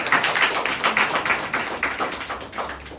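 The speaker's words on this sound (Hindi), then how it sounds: "जोरदार ताली उनकी एब्सेंस में।" A classroom group claps loudly for absent students, a dense burst of applause that gradually tapers off.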